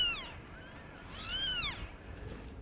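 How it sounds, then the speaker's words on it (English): Mother cat and her four newborn kittens rescued from the 1997 Ohio flood, with several high thin meows in quick succession, close and clear over a low background rumble. "rescuers found the mother along with her 4 newborn kittens"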